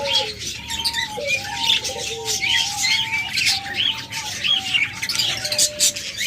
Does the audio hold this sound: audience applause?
no